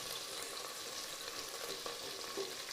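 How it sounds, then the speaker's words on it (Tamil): Onion and green chillies sizzle quietly while being sautéed in a pan for a stingray fish curry, giving a soft, continuous frying crackle with a few faint stirring scrapes. "பச்சை மிளகாயம் சேர்த்து நல்லா வதக்கி விட்டுருவோம்."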